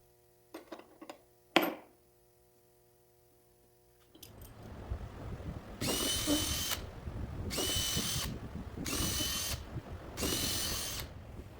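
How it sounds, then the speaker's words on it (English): A power drill bores pilot holes in a wooden display case, four short loud whirring bursts separated by brief pauses over a steady motor hum, preceded by a few light clicks and knocks, close and with no talking. "I'm just going to drill some pilot holes in the right location"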